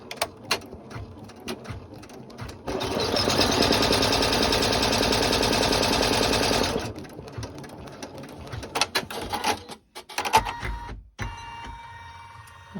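A sewing machine stitches vinyl purse panels with D-rings tacked in place, running in one steady, loud mechanical whir for about four seconds, framed by handling clicks and shuffling before and after.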